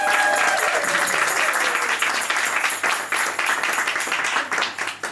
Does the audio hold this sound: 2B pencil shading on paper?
no